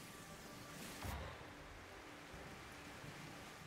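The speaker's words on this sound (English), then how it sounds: "Oh, it's raining." Rain falls in a storm in the video game No Man's Sky, a soft continuous hiss with a brief low rumble of thunder near the start, faint and steady throughout without speech.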